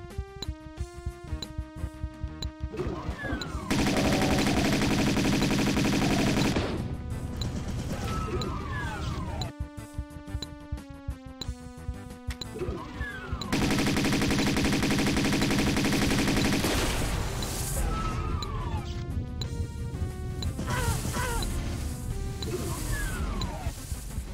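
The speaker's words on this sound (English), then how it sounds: "Massive explosions behind you!" Explosions in the video game Hideous Destructor burst out as two long, loud roaring blasts, set among rapid, rhythmic gunfire-like clatter and tonal game sounds.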